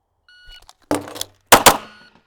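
A brief electronic timer beep, then loud bursts of pistol fire, two near-doubled shots close together.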